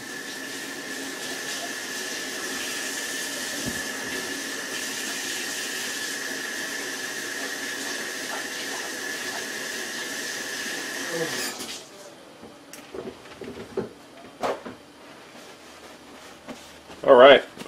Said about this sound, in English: You can hear the water starting to kind of get to the point where it's going to be boiling.